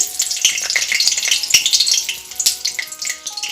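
Ghost chilies dropped into oil heated over a medium flame in a wok, crackling and spitting in dense, close bursts of sizzle with a few faint tonal notes underneath.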